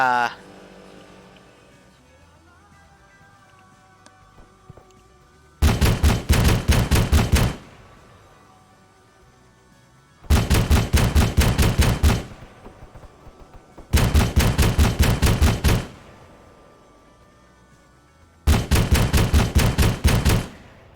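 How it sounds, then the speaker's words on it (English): An auto turret in a video game fires four long rapid-fire bursts, each lasting about two seconds, loud and close, with quiet gaps between them. "Being engaged by an auto turret somewhere around the hospital"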